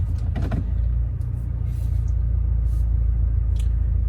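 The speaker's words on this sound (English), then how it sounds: "Take the car out for a test drive here and see if we have solved the problem." Volkswagen Golf R MK7.5 on a test drive, a steady low road rumble and engine drone from inside the cabin, with faint brief clicks and rattles over the continuous noise.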